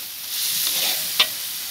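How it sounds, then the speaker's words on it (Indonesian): Lobster sambal sauce stirred in a pan gives a steady sizzling hiss, with one sharp clack of the utensil near the end. "Setelah itu kita aduk lagi."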